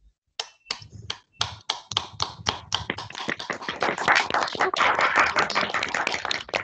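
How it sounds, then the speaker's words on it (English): Webinar participants clap one after another over open microphones, starting as sparse separate claps and growing into a denser, uneven patter of several people clapping close to their mics. "give that Bhishma Pitamah a very warm welcome by giving round of applause"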